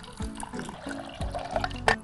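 Water pours and splashes into a vessel in short gurgling bursts, close by and moderately loud, as about two cups of water are added to lentils for dal.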